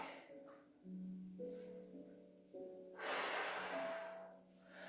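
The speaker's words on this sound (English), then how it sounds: "Really exaggerate the breathing." Exaggerated breathing during a Pilates exercise: long drawn breaths, in through the nose and blown out through the mouth, with a strong forceful exhale near the end over faint background music.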